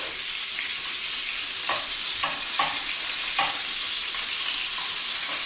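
Quail pieces fry in a pan for a Tuscan quail dish, giving a steady, loud sizzle with a few soft clinks and scrapes scattered through it and no voices.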